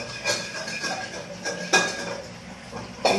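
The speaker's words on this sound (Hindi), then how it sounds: "मीरा से कढ़ाई थोड़ा घिसवा रही हूँ" Metal scrubbing and scraping inside a kadhai, an Indian wok, with burnt bhujia residue: a series of irregular clanks and scratchy strokes, close and fairly loud, some sharper knocks standing out.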